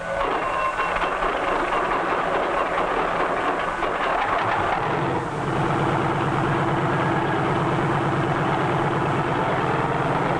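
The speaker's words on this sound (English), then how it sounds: "A self-starter starts the engine, and after a careful warm-up, we're ready to take to the air." A helicopter engine is started by a self-starter and settles into its warm-up, a loud, continuous mechanical roar whose tone shifts partway through into a steadier, throbbing idle.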